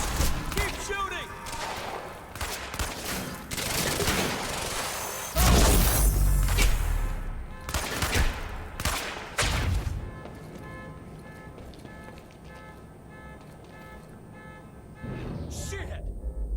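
Gunfire in the video game Quantum Break, loud irregular bursts and impacts with a heavy blast near the middle, mixed with game effects and talking voices.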